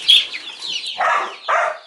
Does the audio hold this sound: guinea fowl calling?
yes